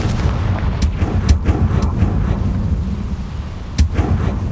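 In Hogwarts Legacy, the Confringo blasting spell goes off in a series of heavy booming blasts, several sharp cracks over a rumbling low roar.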